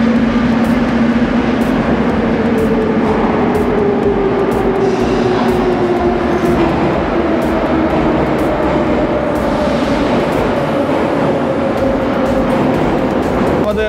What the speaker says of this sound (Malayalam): അണ്ടർഗ്രൗണ്ട് ആയതുകൊണ്ടും ആ ട്രെയിനിൻ്റെ ഹൈ സ്പീഡ് കൊണ്ടും ഭയങ്കര ശബ്ദമാണ്